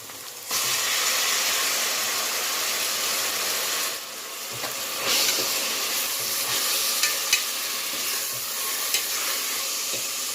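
Tomatoes and onions frying in a pan for a white pumpkin kootu, a loud continuous sizzle that surges as they go in, with stirring scrapes and small clinks throughout, close and with no talk.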